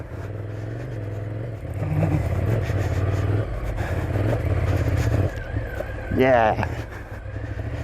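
A Ducati Scrambler Desert Sled motorcycle engine runs steadily while riding, a continuous low drone with a brief rising rev near the end, heard under wind noise and a short spoken word.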